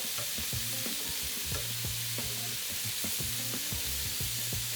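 Stuffed squid filled with quinoa and chorizo browns in a hot pan with a steady bright sizzle, while close stirring and scraping knocks repeat throughout.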